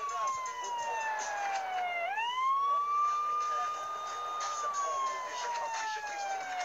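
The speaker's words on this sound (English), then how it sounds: "Put the sirens on." A police car siren in a video game wails continuously in rising and falling sweeps, loud and close, with a brief dip and rise partway through.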